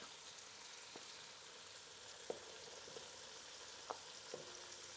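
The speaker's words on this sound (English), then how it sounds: "Spend a minute or two sauteing this up because you want to get this a little bit brown" Chopped leeks and onion sautéing in a pan give a faint, steady sizzle, with a few soft clicks from stirring.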